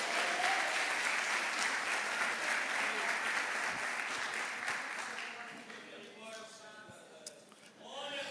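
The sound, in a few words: audience applause in church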